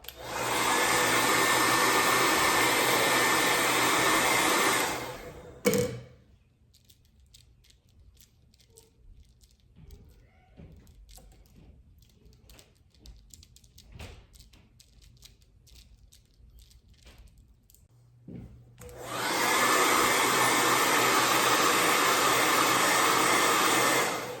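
A heat tool blows hot air onto a rolled beeswax candle in two steady, loud roaring bursts, one at the start and one at the end, with a quiet stretch of faint handling noises between them.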